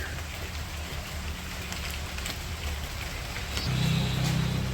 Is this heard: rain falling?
yes